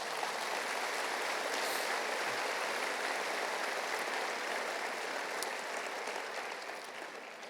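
Congregation applauding in church: a dense, sustained wash of clapping that holds steady for several seconds before thinning slightly at the end.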